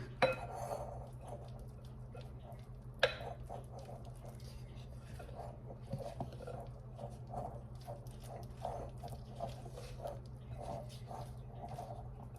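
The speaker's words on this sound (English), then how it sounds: "Let's stir this up real good and see if I need to add a little bit more mayonnaise." Pimento cheese and mayonnaise are stirred in a bowl, with soft, irregular scraping and light clinks of a utensil against the dish, faint and close, plus one sharper knock.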